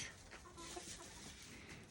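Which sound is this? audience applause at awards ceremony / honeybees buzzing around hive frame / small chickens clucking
small chickens clucking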